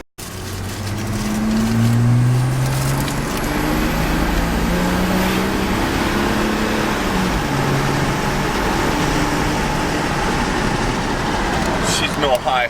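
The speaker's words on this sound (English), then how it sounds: "She's no high horsepower turbo 6-cylinder, but it moves along okay." A 1946 Ford six-cylinder car drives along, its low engine drone steady and close throughout, with road and cabin noise layered over it.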